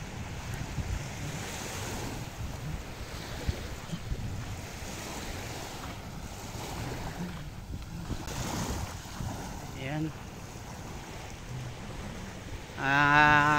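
Sea waves washing onto an undeveloped beach, with a steady rumbling surf and wind buffeting the microphone, and a brief tonal chirp near the end.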